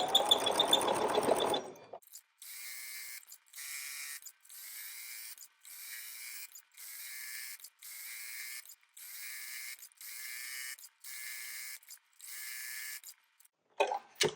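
A domestic sewing machine stitching straight-line quilting runs in about ten even bursts of rapid mechanical chatter separated by brief pauses, close and clear with no talking.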